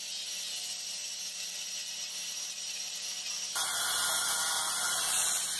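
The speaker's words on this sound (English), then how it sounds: "that's why the Dremel sounds like it's about to die" A high-pitched Dremel rotary tool whines continuously while sanding wood for intarsia, rising in pitch and loudness partway through, close and steady.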